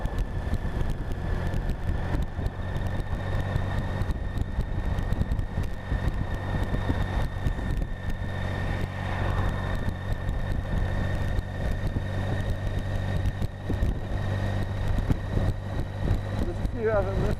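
A BMW K75 motorcycle pulls steadily in top gear from slow speed, its low engine drone and heavy wind rush continuous throughout, with a rider talking over it.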